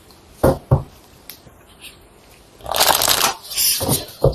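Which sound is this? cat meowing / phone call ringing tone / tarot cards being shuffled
tarot cards being shuffled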